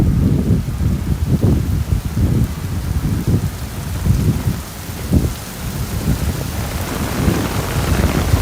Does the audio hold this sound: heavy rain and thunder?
yes